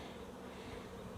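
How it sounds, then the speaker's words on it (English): Honey bees buzz during a spring hive inspection, a close, constant drone from many insects at once, steady and unbroken with no voices. "There are bees crawling on it."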